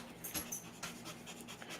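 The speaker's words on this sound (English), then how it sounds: "I got all the dogs that I don't know what they're doing here." A dog panting in quick, rhythmic breathy puffs close by, steady and moderately loud, no talk over it.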